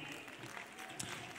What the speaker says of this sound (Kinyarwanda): abantu banyishimira Joshua Comedy nyamuneka mumereza amashyi